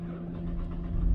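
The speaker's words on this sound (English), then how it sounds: "Let's start the car." A Cadillac CTS engine turning over and settling into a steady low idle rumble, growing slightly louder toward the end, close by with no talking.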